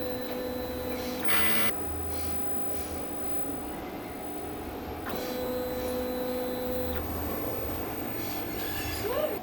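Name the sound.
DTF printer running a print head clean cycle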